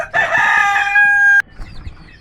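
A hen's loud drawn-out call with stacked harmonics for over a second, then abruptly stopping, followed by softer scattered clucks and rustling nearby.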